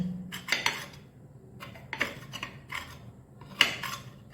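A dosa spatula cuts through a hot bread omelette on a plate, making several short, close scraping taps of metal against the plate in irregular bursts, with quiet gaps between.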